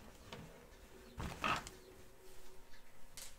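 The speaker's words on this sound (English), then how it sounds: "we're going to free this from the hoop." An embroidered crazy patch quilt block is freed from an embroidery hoop, giving a close, brief creak and rub of the loosened frame and a few soft handling clicks in a quiet room.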